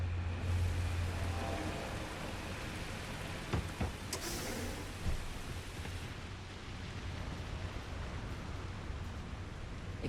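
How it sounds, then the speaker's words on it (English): Steady rain falling outside an industrial packing site, a soft continuous hiss like static with a few faint taps and knocks in the middle, heard alone at low volume. "Sounds like radio static, but I'm pretty sure it's just the rain outside."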